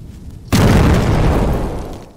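A cannonball explodes in the video game Witch Hunt: one sudden, loud, close boom that rumbles and fades over about a second and a half after a quiet start.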